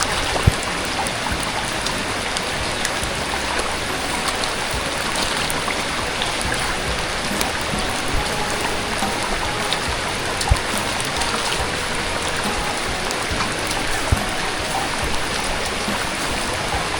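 Heavy rain falls steadily on a rice field during the harvest, a dense, loud, unbroken hiss of drops with scattered sharper patters, no voices.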